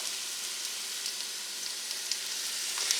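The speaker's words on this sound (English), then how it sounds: "add the large diced onion. And the diced ham." Diced onion and cubed ham sizzle and fry in a soup pot, a steady close hiss with faint crackling pops and no voices.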